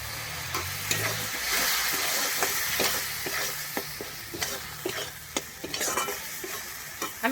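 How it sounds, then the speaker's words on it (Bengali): Well-fried spice paste sizzles in a pan as a splash of water from a rinsed bowl hits it, for a cauliflower and Gobindobhog rice dish, followed by steady stirring with sharp utensil scrapes and clicks, close and continuous, with no talking. "সমস্ত মশলাটা কিন্তু এখানে খুব ভালোভাবে কষানো হয়ে গেছে এরপর আমি একটু বাটি ধুয়ে জল দিয়ে দিচ্ছি"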